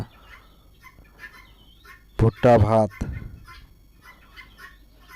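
Chickens cluck and call faintly in the background, broken by a short, loud spoken phrase in the middle.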